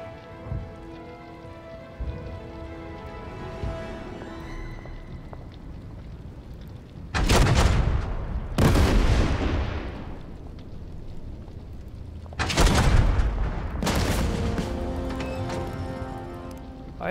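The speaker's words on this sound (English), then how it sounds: "Oh, now this tank here can shoot." A tank fires in the Total Tank Generals war game, set in the Operation Crusader campaign. Four heavy booming blasts come in two close pairs, each with a rumbling decay over faint background ambience.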